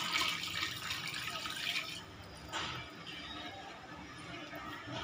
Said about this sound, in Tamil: வெள்ளைப்பாகு வந்து க்ளீனாக வடிகட்டணும், வடிகட்டி சேர்க்கணும்.